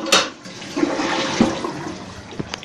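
A 2010s Kohler Wellworth toilet, 1.6 gallons per flush, flushes nearby with a sharp initial whoosh followed by steady rushing and gurgling water, loud and close with no talking.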